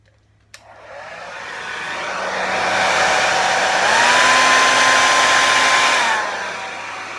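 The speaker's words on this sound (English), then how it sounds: "I'm going to use my hairdryer here." A hair dryer switches on with a click and blows steadily nearby, its whine shifting pitch midway before settling.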